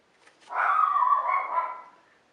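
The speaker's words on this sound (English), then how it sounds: "That's my dog, barking probably at another dog walking down the street." A single drawn-out dog bark or howl, faint and somewhat distant, rises out of near silence and fades, with the dog likely reacting to another dog passing on the street outside.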